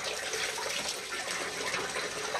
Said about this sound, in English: I try to get my water flow the same every time